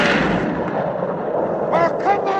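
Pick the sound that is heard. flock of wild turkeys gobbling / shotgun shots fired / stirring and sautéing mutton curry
shotgun shots fired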